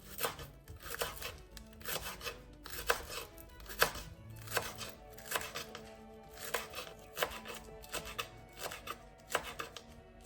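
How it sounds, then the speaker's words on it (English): Knife chopping fresh green onions finely on a cutting board, a steady series of crisp, close taps in quick bursts with brief pauses between. "Take the green onions and chop them finely."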